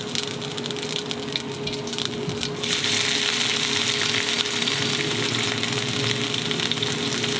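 Ginger and garlic hit hot oil with roasted mustard seeds for masala dosa in a home kitchen, giving a steady sizzle that swells louder about a third of the way in and holds as a continuous frying hiss.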